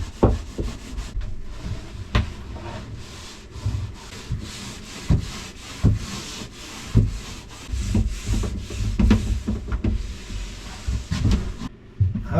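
Oiled cloth rubbing down the wooden surface of a boat under restoration, continuous close swishing strokes in a rough back-and-forth rhythm with occasional knocks against the wood.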